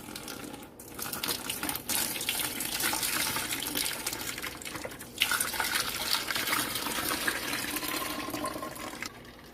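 Liquid pours steadily into a mesh strainer over strawberries in a continuous splashing stream for several seconds, with a brief break and a small clatter partway through.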